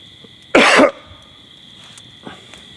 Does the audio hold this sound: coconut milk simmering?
no